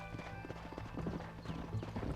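Horse hooves galloping in the video game Red Dead Redemption, a rapid, steady clip-clop rhythm close by throughout, with a brief faint whinny.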